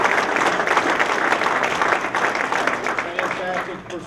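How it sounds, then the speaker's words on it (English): An audience claps in a sustained round of applause that slowly fades, dense and fairly loud, mixed with crowd murmur. "Let's give them all a round of applause."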